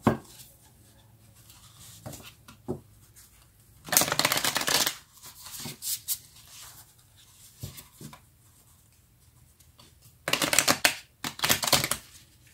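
Tarot cards shuffled by hand, two loud riffling bursts of about a second each separated by quieter taps and handling noises, close and otherwise near silent.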